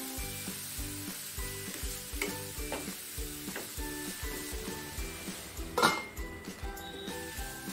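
Carrots sizzle in a pan with a tempering of spices, with a continuous close frying hiss under rhythmic stirring strokes and an occasional clink of a spoon against the pan.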